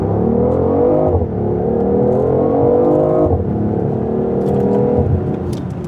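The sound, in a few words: BMW i8 accelerating in a 0 to 60 test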